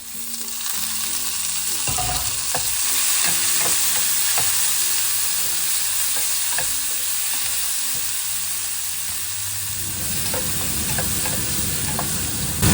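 Tomatoes go into a hot frying pan for a bottle gourd and lentil curry, giving a loud, continuous sizzle with scattered clicks and scrapes of stirring throughout.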